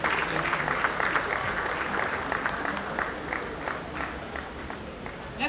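Sustained applause from an award ceremony audience, a dense, steady wash of clapping at close to moderate distance that continues without a break for the whole stretch, with faint crowd murmur underneath.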